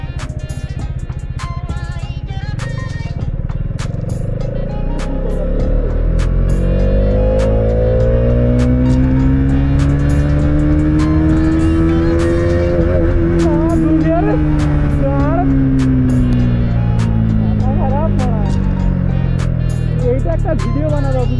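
Xtreme 250R motorcycle on a top speed run, its engine roaring steadily and rising in pitch as it accelerates, then easing slightly. Strong wind rushes over it throughout, and it stays loud and close.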